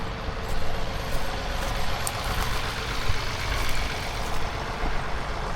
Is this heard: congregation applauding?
no